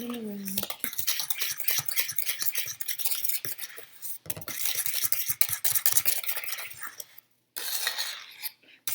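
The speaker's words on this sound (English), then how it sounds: "So mix that in with the creamy stuff you already had, slowly so it doesn't go flying out the edges." A spoon stirs cinnamon bread batter with milk in a small bowl, a close busy run of soft scraping and light tapping against the bowl that continues steadily, with brief pauses near the end.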